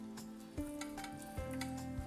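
Onions, bacon and beef chuck for a Flemish carbonade sizzle in a cooking pot, a steady close frying hiss with a few stirring knocks and clinks.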